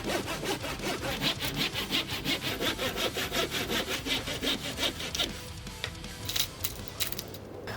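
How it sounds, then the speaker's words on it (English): A hand saw cuts long strips of wood in steady rhythmic back-and-forth strokes, loud and close, then the strokes break off into scattered knocks and scrapes near the end. "I had to saw 2 long strips of wood by hand"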